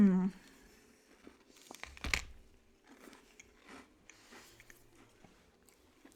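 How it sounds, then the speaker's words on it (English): Close-up bite and chew of a Franken s'more with melted chocolate: one sharp crunchy bite near the middle, then soft, wet chewing sounds, with quiet stretches between them. "I'm gonna take one more bite."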